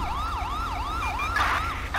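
Ambulance siren in GTA V, a wailing up-and-down sweep repeating about every third of a second, loud and close, with a brief burst of other game noise near the end.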